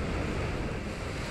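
A dense, roaring wash like crashing surf fills the whole moment, loud and unbroken, as the Muddy Water attack lands in Pokemon Alpha Sapphire on the 3DS.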